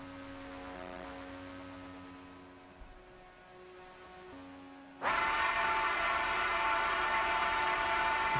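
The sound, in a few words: train-like noise in an album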